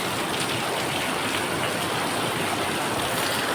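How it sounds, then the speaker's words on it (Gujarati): Steady, continuous rain pours down in a dense, even hiss with no pauses and no voices. "કાલે વરસાદ સારો પડી ગયો અને આજે પણ શરૂ જ છે."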